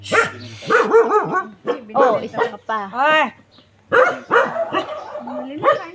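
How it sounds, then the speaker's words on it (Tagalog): Dogs barking loudly at a house, repeated yips and barks in bursts across the whole stretch, with a voice calling out over them. "Yung mataho, yung aso na to, ang ingay."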